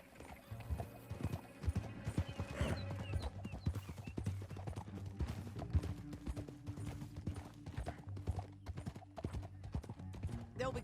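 Horse galloping in Red Dead Redemption 2, rapid rhythmic hoofbeats with an occasional whinny and snort, heard under game music and spoken dialogue.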